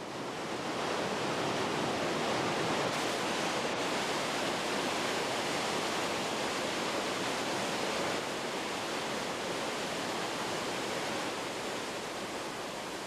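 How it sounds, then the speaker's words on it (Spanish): The Krimml Waterfalls in the Austrian Alps, a 380-metre cascade in three drops, produce a dense, constant roar of rushing water that stays loud and unbroken throughout. "las cataratas de Krim."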